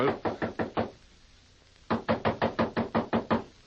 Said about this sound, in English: Go on, knock.